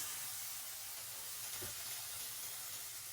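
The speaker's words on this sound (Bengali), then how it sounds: "তো আমি পানি দিয়ে দিলাম" Water hits a hot pan during cooking of a gourd and shrimp curry, producing a loud, continuous steamy hiss and sizzle close by that holds steady throughout.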